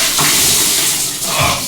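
Bucket of ice-cold water poured over a person's head for the ALS Ice Bucket Challenge, a loud, close, rushing splash with two surges of pouring water, no voices.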